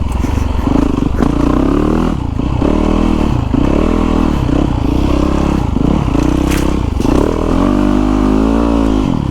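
Yamaha YZ450FX 450cc dirt bike riding, a loud, steady engine drone throughout with repeated rising and falling revs as the rider shifts and accelerates, recorded up close from the bike.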